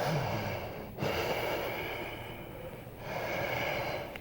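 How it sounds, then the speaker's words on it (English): Ujjayi breathing through a slightly constricted throat, a close, hissing rush of breath like white noise, with a long inhale and exhale separated by brief pauses. "you keep that constriction while you're breathing, and it starts to create a white noise"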